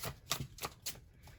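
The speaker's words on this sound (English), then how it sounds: "I'm going to shuffle up the tarot deck real quick." A tarot card deck is shuffled by hand in a quiet room, giving a few soft, quick riffling bursts in an uneven rhythm, close and faint.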